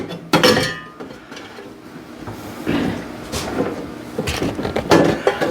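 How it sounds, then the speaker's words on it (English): A bread pan is slotted sideways into a Vevor bread maker and twisted into place, giving a few close metallic clinks and knocks with short scraping rattles spread across several seconds. "Then you give it a little twist to put it into place."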